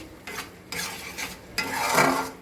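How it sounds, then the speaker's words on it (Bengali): Onions and masala are stir-fried in a pan for Bengali-style masala paneer, with three short bursts of spatula scraping over a soft sizzle, close and clear. "এবার আমি এটা মশলাটা আমি কষাতে থাকলাম, ভালো করে কষিয়ে নেব"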